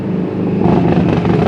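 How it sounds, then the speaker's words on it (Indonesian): A motorcycle passes by on a road in Garut, its engine a loud, close rumble that swells and holds throughout the short moment, with no talk over it. "ada motor lewat nih, waduh."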